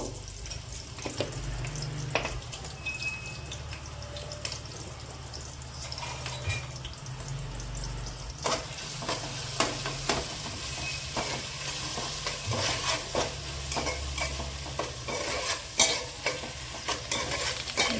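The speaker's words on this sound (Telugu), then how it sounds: "కొంచెం వేగాలండి ఇవి పచ్చివాసన పోయే వరకే వేగాలి" Spices frying in a pan for Telangana-style goat head curry, a continuous close sizzle with repeated stirring and scraping clinks, plus brief trickles of water, no talking.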